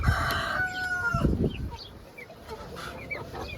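Silkie chickens on a farm make a short burst of clucking and calls at the start, fading into quieter background bird sounds.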